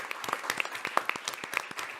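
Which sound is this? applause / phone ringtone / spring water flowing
applause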